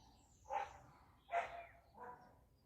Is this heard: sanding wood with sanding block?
no